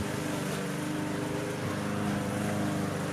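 A lawn mower engine runs steadily and continuously at moderate distance in a yard, a constant droning hum with no talk.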